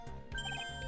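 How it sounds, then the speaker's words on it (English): A telephone rings in the Phoenix Wright: Ace Attorney courtroom game as a short, steady electronic trill with a warbling tone. It stands alone and close, with no talking over it. "Telephone."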